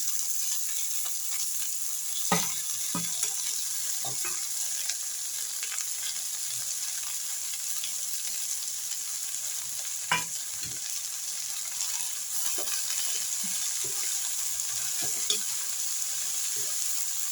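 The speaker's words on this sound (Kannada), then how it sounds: "ಸೊಪ್ಪು ಹಾಕ್ಬಿಟ್ಟು ಈ ಥರ ಚೆನ್ನಾಗಿ ಮಿಕ್ಸ್ ಮಾಡ್ಕೊಳ್ಳೋಣ" Red amaranth greens sizzle and fry in a pan with onions as a utensil stirs them, giving a steady hiss with occasional scraping clicks throughout.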